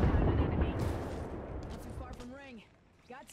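Gunfire from a first-person shooter video game during a team match, a dense burst of shots and rumbling blasts at the start that thins out, with players' voices talking over the later part.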